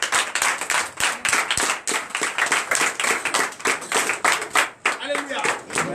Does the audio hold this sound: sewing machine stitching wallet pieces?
no